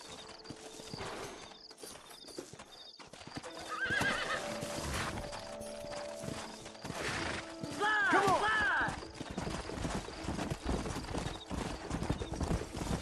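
Horse hooves clip-clop steadily while a horse neighs loudly a couple of times, with creaking tack and ambient game sounds around them, in the video game Red Dead Redemption.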